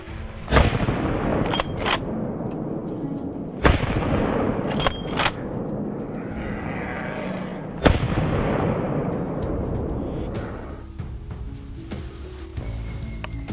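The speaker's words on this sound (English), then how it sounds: "The gunfire startled the rest, sending them scattering" Several loud gunshots at wild hogs ring out, spaced a few seconds apart, each followed by a long echoing decay, with sharper cracks mixed in.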